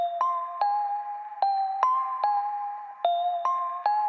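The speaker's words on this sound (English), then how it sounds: "for this beat, we're going to be working with these bells right here" A melodic bell loop for a music beat, bright chiming tones struck in a repeating rhythmic pattern, clean and sustained, with no voices.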